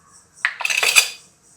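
A small spoon is lifted from among dishes in a home kitchen, making one brief, close metallic clink and rattle in an otherwise quiet room.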